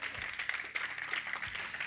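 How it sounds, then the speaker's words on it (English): A church congregation claps together during a Sunday service, a steady wash of many hands with scattered louder claps over nearly two seconds, with no speech over it. "Y'all got to clap for God."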